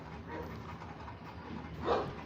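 A Boerboel dog pants close by in a steady stream of quick breaths, with a slightly louder burst of breathing near the end and no talking.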